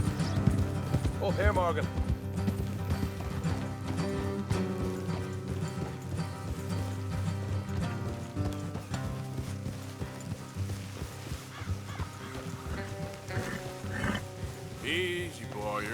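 Several horses clip-clop along a road at a trot in the Red Dead Redemption 2 video game. Steady hoofbeats continue under background music and snorts, and someone speaks briefly.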